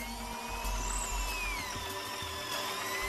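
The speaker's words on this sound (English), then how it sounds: "Do you have the hammer drill function on, too, by the way?" A hammer drill bores into solid rock at a cave in Mustang, Nepal, producing a steady, fairly faint whining drone with slight wavering pitch and no voices over it.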